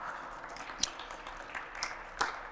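Faint, scattered applause from an audience at a Cleveland civic briefing on the 2024 solar eclipse, a thin wash of clapping with a few sharper claps standing out.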